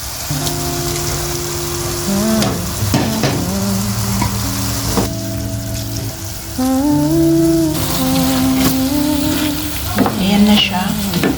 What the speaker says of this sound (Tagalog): So, next is ilalagay na po natin yung ating